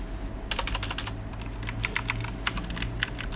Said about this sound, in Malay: Dari segi feeling mechanical keyboard ni, okey, kita dengar aja bagaimana bunyi dia.